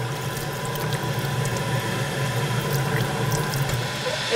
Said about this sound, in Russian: Наливаем самовар и пользуемся водою.